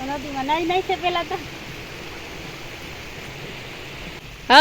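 A steady broadband rush of river water flowing fills the scene, with a voice speaking briefly at the start and another at the very end.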